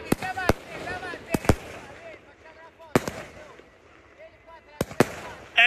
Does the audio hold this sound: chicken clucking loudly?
no